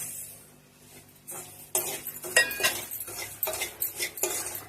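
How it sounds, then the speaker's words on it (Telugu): Wheat semolina is fried in ghee in a pan over medium heat, with close metallic scraping and clinking from a spoon stirring the grains and a light sizzle underneath, growing busier partway through. "అలాగే ఇందులో నేను ఒక కప్పు గోధుమ రవ్వను తీసుకొని మంచిగా ఫ్రై చేసుకోవాలి."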